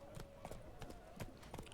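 Hooves of a horse walking in The Witcher 3 video game clip-clop in a steady, unhurried rhythm, soft and mid-distance over a hazy game ambience.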